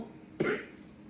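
A single short cough from a person who is unwell, loud and close, with quiet room tone before and after.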